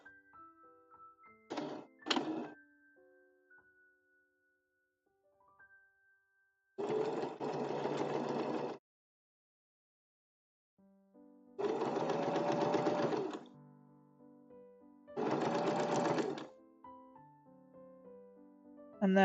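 Sewing machine top stitching a raglan sleeve, running in several steady, close bursts of a few seconds each separated by quiet pauses, with a couple of short thunks early on and no talk.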